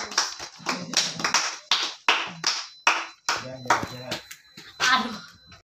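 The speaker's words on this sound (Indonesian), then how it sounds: "Sekarang kita tepuk tangan untuk semua karena kerjanya bagus." Students in a classroom clap in short, uneven bursts, sharp close hand claps separated by brief gaps, with children's voices mixed in.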